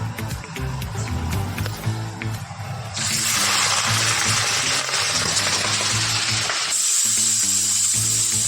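Chicken skin dropped into a hot wok bursts into loud, steady sizzling frying that swells suddenly and carries on, over a faint background of tonal sound.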